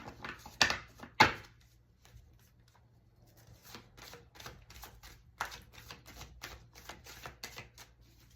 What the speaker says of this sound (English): let me shuffle and get the rune for number 1